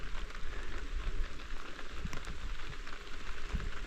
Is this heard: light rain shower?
yes